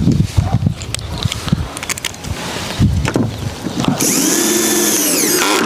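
A power drill drives a screw into wood, whirring steadily for a couple of seconds, close and loud, following some clattering handling noises.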